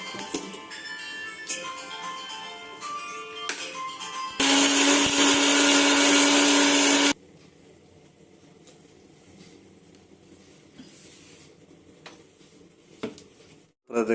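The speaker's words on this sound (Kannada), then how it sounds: "ಸ್ವಲ್ಪ ನೀರು ಹಾಕಿಕೊಂಡು ಮಿಕ್ಸಿಯಲ್ಲಿ ರುಬ್ಬಬೇಕು" A mixer grinder blends soaked cashews and almonds with water in one loud, roaring burst of about three seconds. Quieter clicks and handling noises come before it, and faint, sparse knocks follow.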